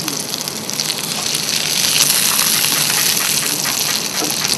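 Whiting fillet frying in butter in a pan, a loud, close, continuous sizzle and crackle that swells slightly partway through.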